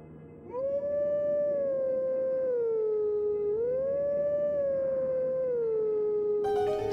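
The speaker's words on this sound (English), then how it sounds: "There he is, waiting for us to howl at him." A long, steady wolf howl from the game Twilight Princess, a spirit-like figure's call rising and falling in pitch with rich harmonics, loud and close, sustained for nearly the whole stretch without any talking.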